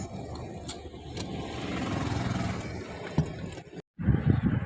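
A car engine runs steadily as a family climbs in for a road trip in Kashmir, a loud continuous rumble that cuts out briefly near the end and then resumes with bumping and shuffling sounds.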